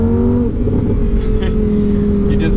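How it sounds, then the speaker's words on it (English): Naturally aspirated engine of a 2023 Lamborghini Huracan Sterrato drones steadily at sustained high revs, a loud continuous tone heard from inside the car, with a voice talking over it. "The beauty of a naturally aspirated engine like this is when you've got it up in the revs"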